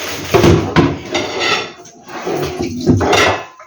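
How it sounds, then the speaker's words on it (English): Dishes being washed in a home kitchen, with repeated clattering of pots, plates and utensils, some running water and cupboard or drawer knocks, loud and close throughout. "I wash the dishes as well."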